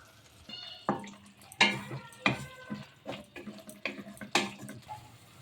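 Spices, turmeric and Kashmiri chili powder among them, fried and stirred in oil in a pan, giving soft sizzling with repeated scraping stirs at an irregular rhythm, fairly quiet and close.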